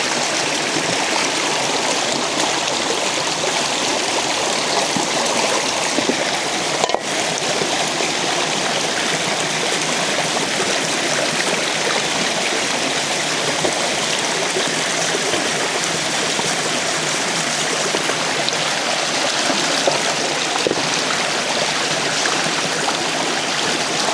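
Water runs steadily and loudly for the whole stretch while a pot is washed out, a continuous splashing rush close by with no talk over it.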